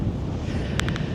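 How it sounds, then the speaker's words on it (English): Brisk wind on Rottnest Island buffets the microphone with a steady, close, rumbling roar that runs through the whole moment without a break. "And that wind is brisk."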